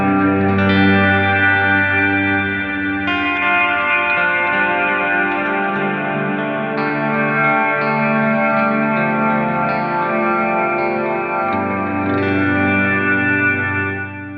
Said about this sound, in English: Or maybe I want the reverb to be big, but just a little bit of delay in there.